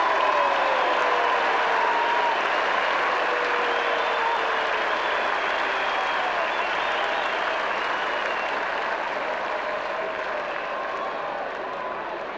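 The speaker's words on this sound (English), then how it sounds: "Give them one last round of applause." A stadium crowd applauds steadily at the 1995 SANFL grand final between Port and Central District, a dense wash of clapping that holds loud and alone before gently tapering off.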